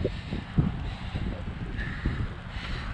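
Strong wind gusting across the Confederation Trail, an outdoor rail trail, in chilly weather, a steady low roaring buffet against the microphone with a few stronger gusts.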